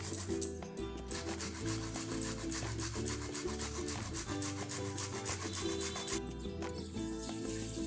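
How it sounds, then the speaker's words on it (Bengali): An onion is grated by hand for Bengali doi katla, making rapid, steady rasping strokes close by under continuous background music. "তারপর পেঁয়াজটা গ্রেট করা"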